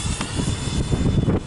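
A Freewing F18 90mm EDF model jet flies past with a continuous roaring, whooshing turbine rush, fairly loud and steady, with no talk over it.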